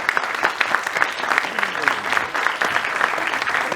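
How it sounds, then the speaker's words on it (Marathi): Audience at a Marathi film trailer and poster launch bursts into steady, dense applause that fills the room evenly from start to finish. "टाळ्यांचा प्लीज."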